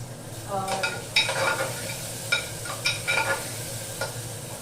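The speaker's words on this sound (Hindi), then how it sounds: "प्याज हल्का ब्राउन कर लूंगी, उसके बाद में आलू डाल करके प्याज में लाल कर लूंगी हल्का" Sliced onions and potatoes fry in a pan on a home stove, a steady sizzle broken by several scraping stirs of a spoon against the pan, close and fairly loud.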